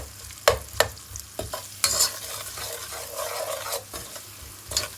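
Food stir-fried in a pan while Somali rice is prepared, with repeated scraping stirs, sharp clinks and a steady sizzle building in the middle, close and alone.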